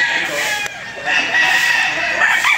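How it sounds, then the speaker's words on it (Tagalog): Bull stag gamefowl roosters crow loudly and close at a game farm, several calls overlapping in quick succession. "ito yung mga sample ng mga bull stags na nakuha natin"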